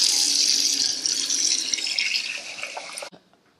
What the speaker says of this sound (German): Und dann stelle ich das ins kalte Wasserbad, damit es dann möglichst schnell abkühlt.